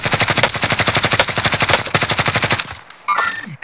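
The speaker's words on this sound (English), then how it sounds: "I'm taking fire!" Video game gunfire in a squad-based shooter: long, loud bursts of rapid automatic fire, a steady rattling stream that pauses briefly before a final short burst.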